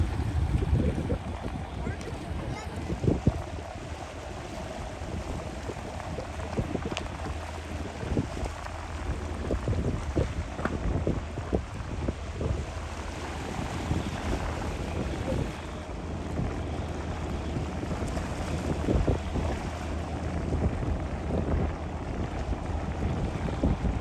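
A fishing boat engine rumbles low and steady as the boat heads out at The Spit, Gold Coast, Australia, amid gusty wind buffeting the microphone, with scattered knocks and splashes over about twenty seconds.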